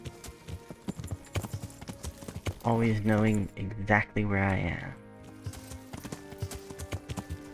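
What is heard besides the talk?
horse hooves clip-clopping in a video game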